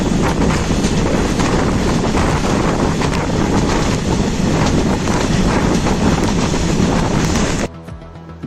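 Inside a moving passenger train from Bhavnagar to Vijapadi, a loud steady rushing rumble of wheels and wind fills the carriage before cutting off abruptly near the end.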